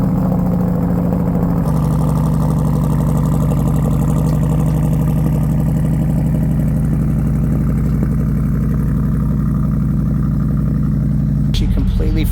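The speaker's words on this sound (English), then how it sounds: "Now here's my favorite part, the cold start." Chevrolet Corvette C8 V8 engine cold starting, a loud burst of revs that settles into a steady, heavy, droning idle held for many seconds, close up, before a sharp change near the end.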